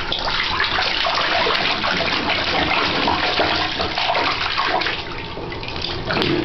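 Steady, dense rush of water in a bathtub as a young girl splashes, a continuous close wash of sloshing and spray with no talking.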